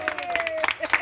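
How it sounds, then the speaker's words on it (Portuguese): A quick round of applause at a daughter's birthday party in Guarulhos: a few sharp hand claps break out close by, mixed with voices talking over them. "Uma salva de palmas, pessoal."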